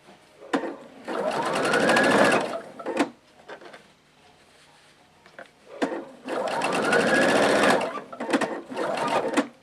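A sewing machine stitches patchwork seams for a tumbler quilt in two long, steady runs of motor whir, each ending with a short stop and a light click before a quiet pause.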